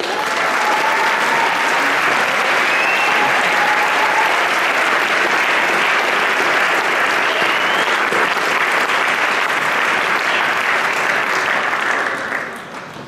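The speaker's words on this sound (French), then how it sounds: "on les remercie encore, on les applaudit tous" A concert audience at a showband gala gives the musicians sustained, dense applause. The clapping stays loud and steady for about twelve seconds, then tapers off at the end.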